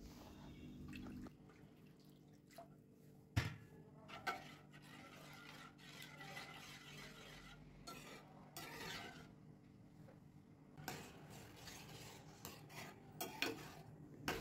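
Tomato soup being stirred in a pan on the stove: quiet, close spoon scrapes and occasional clinks against the pan over a soft background, with no talking.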